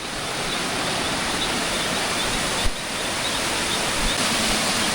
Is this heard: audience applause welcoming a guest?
no